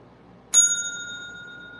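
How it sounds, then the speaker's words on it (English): A single bright bell strikes sharply to mark the end of answer time in a trivia game, its clear metallic tone ringing on and slowly fading, with no talking. "Ashley, you came in after the bell."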